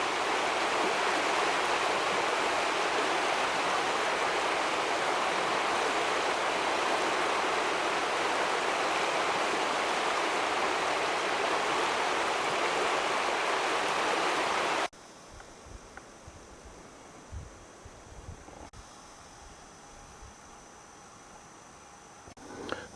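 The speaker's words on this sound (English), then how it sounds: "Hear that water over the rocks all night long." A small stream in Tierra del Fuego National Park near Ushuaia, Argentina, rushes over rocks in a loud, steady wash for about fifteen seconds, then cuts abruptly to quiet outdoor ambience.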